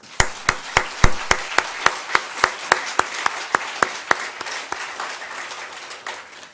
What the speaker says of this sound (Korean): 영광의 박수 한번 하시죠